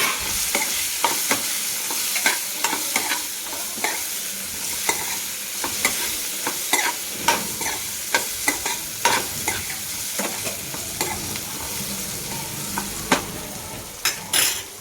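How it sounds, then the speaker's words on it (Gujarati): Chopped chili peppers with turmeric and asafoetida being stirred in a hot pan for a Gujarati chili sambharo, with a close, continuous sizzle broken by repeated scraping spoon clicks, with no talking. "અને આપણે મરચાં કટ કરી રાખ્યા હતા તે મરચાં હવે આપણે એને હલાવી દેવાના છે"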